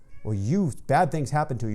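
A cat meows repeatedly in the background, loud and drawn-out, mingling with a person talking over it.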